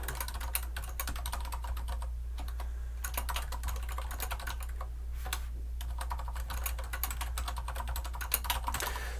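Someone types a message on a computer keyboard in a rapid, steady run of close, crisp key clicks, with a brief pause or two and a low hum underneath.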